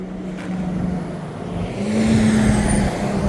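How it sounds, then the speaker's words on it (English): Maintenance truck rolling into a fire department municipal garage in eastern Montreal, a steady engine rumble that swells slightly louder as it draws near, heard alone without voices. "Oh, we got a maintenance vehicle coming in."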